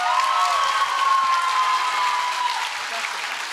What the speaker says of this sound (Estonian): Teeme ühe suure aplausi Joelile.